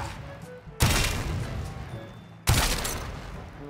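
Two loud explosive blasts from the Sepulcrum gun in the game Warframe, each a sudden burst followed by a decaying rumble, spaced well apart over faint background tones.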